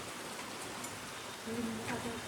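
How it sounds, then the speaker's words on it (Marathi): Soft, even patter of rain falling outdoors, quiet and distant, with a faint tonal sound rising late in the clip. "बाहेर पावसाने बघा कशा हजेरी लावले"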